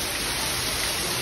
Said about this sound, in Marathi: असा पाऊस असेल तर पॉसिबल नव्हतं ना.